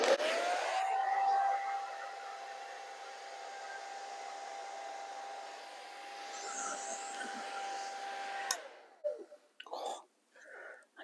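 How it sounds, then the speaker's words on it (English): A hair dryer on its cool setting blows steadily with a constant whirring hum for about eight seconds, then cuts off, leaving some faint rustling and breathing. "The blow dryer is on a cool setting."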